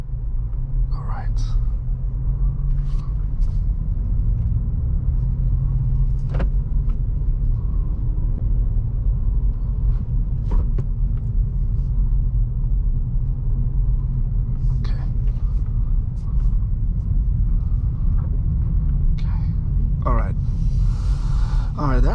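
A 2023 Acura Integra car rolls in first gear with a steady low engine rumble and road noise throughout. A driver talks intermittently over it, and the cabin noise holds constant.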